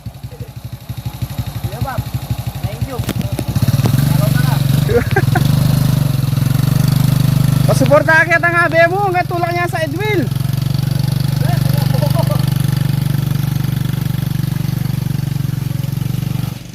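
A motorcycle engine idles with a steady low rumble near Maria Sinukuan falls, starting a few seconds in, while people talk over it nearby.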